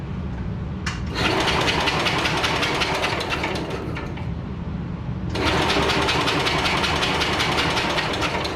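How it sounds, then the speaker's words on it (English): Small engine of a 1968 garden tractor lawnmower running steadily up close, a loud continuous buzzing drone that dips briefly then picks back up louder, with no speech over it. "It's only a fucking lawnmower, garden tractor."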